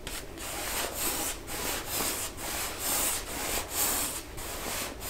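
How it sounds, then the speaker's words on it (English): Steady brush strokes on an oil painting while a very thin, even layer of varnish goes on, with rhythmic rubbing swishes repeating about once a second, close and soft, with no voices. "Just putting on that really thin layer of varnish."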